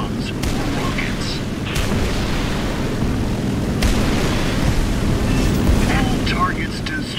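In the War Thunder video game, aircraft rockets blow up ground targets in a dense, continuous wash of booming explosions rumbling over a steady engine drone, loud throughout.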